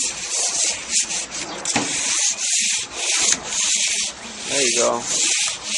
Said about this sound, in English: You gotta sand the whole thing.